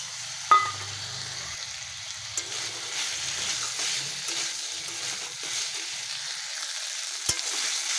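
Onion paste and tomato sauté in a hot pan, giving a steady soft sizzle throughout with occasional clinks of a spoon stirring against the pan, no talking.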